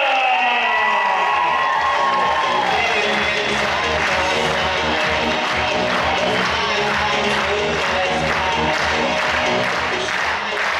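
At a KVN student comedy cup contest, an audience applauds and cheers for the winning team, with dense sustained clapping and shouts filling the hall at full volume from start to finish.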